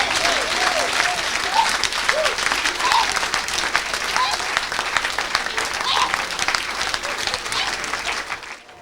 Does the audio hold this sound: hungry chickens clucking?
no